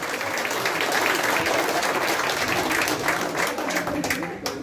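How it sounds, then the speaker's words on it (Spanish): Loud crowd applause for prize winners at a Salvadoran gathering abroad: sustained, dense clapping close by, holding steady for several seconds before tapering off at the end, with faint voices beneath. "Fuerte el aplauso para los premiados"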